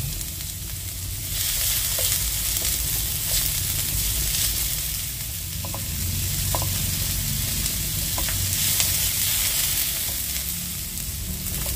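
Onions sizzle as they fry in a pot while cooking rib soup, giving a steady close-up crackle with a few faint clinks.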